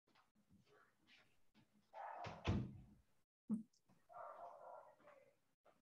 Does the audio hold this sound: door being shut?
yes